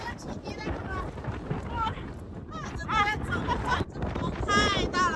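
Strong gale-force wind buffeting the microphone in Torres del Paine National Park, Chile, a steady loud roar throughout while a person speaks over it.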